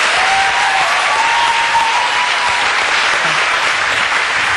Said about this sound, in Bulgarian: Да изпратим Мария с аплодисменти.